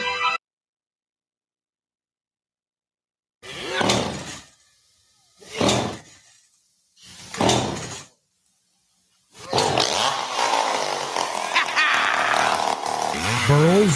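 A chainsaw from a radio ad for Burl's Chainsaw Shop revs in three loud separate bursts, then roars continuously with a rough, buzzing drone, up front with no talking.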